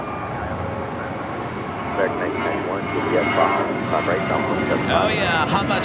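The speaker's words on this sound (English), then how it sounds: "Our next departure is United Airlines Flight 1185 heading to Cabo in an A320." United Airlines Airbus A320 departing LAX for Cabo, a steady distant jet engine roar that swells slightly, heard under people talking.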